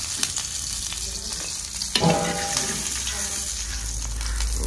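Red coconut chutney frying and crackling in a hot pan, with a spatula scraping and stirring through it, a brief louder clatter midway, continuous close sizzle without talk.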